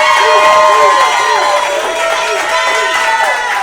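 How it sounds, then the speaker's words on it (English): A crowd of Buffalo Bills fans at a Comprehensive Cancer Center gathering cheers and shouts loudly and steadily throughout, a dense, sustained roar with a few rising whoops standing out. "You've cheered for yourself."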